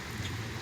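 A brief burst of heavy rain falling on Broad Street during a road race, a steady, close wash of hissing downpour with no talk over it.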